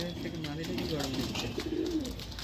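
Madras pigeons cooing inside a loft, a steady low warbling coo that repeats through the clip amid general bird chatter close by.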